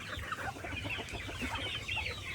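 Village roosters cluck steadily in a close, busy flock, a dense run of overlapping clucks with no pauses.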